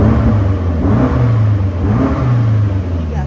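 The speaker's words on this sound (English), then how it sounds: "we'll just put the car in the most aggressive setting, give you a little sound clip of the car" A BMW M5 Competition LCI engine in its most aggressive setting revs against a soft-cut limiter in a sustained, loud growl, pitch rising and falling in waves with no talking.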